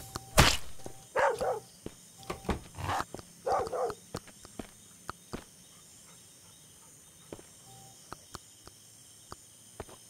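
Dog barking in the survival game Mist Survival: a few sharp, moderately loud barks early on, then sparse faint clicks and quiet ambient game sounds with insect-like chirping in the background.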